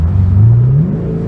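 A Chevrolet Camaro SS with a NXTSTEP axle-back exhaust gives one loud, deep rev that climbs quickly and then eases off, heard up close.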